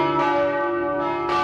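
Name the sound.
church bells ringing, Holy Rosary in Vancouver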